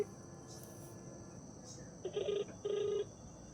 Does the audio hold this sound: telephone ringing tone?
yes